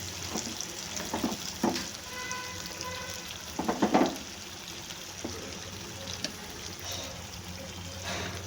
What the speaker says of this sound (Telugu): ఆయిల్ అయితే కొద్దిసేపు ఉడికిపోయింది.